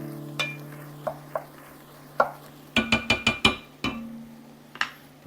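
Stirring mushrooms into a pot of German chicken stew: a spoon knocks against the pot, starting with sparse clinks and then a quick cluster of sharp scrapes and taps, close up, over a low steady hum with no talking.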